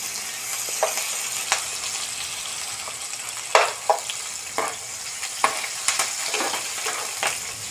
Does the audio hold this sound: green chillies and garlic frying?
yes